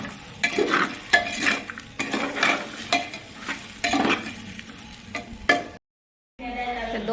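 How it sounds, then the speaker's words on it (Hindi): Dal frying in a pan while being stirred, rhythmic scraping strokes over a soft sizzle close by, with a short silent gap before a brief different sound near the end. "बस दाल फ्राई कर लें"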